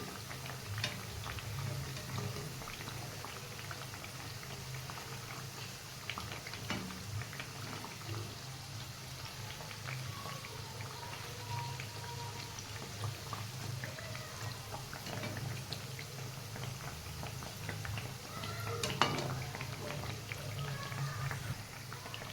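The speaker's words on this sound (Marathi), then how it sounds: "गॅस कमी करायचा वड्या टाकल्यावर, जेणेकरून आतमधून वड्या कच्च्या राहत नाही का" Coriander vadi fritters deep-fry in oil over a low flame, giving a faint, steady bubbling sizzle that runs unbroken throughout.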